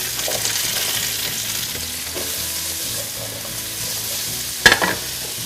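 Vegetables fry in hot olive oil in a pan for a meatless lasagna, giving a steady close sizzle with stirring scrapes and one sharp clatter near the end, and no voices.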